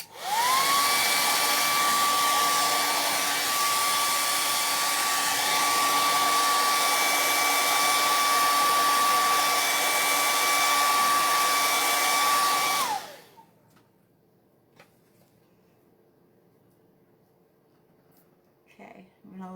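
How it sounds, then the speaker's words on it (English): Hair dryer blowing on a chalk transfer, a loud close steady whine with a rising tone at switch-on, running about thirteen seconds before shutting off into near silence. "I better blow dry it a little bit."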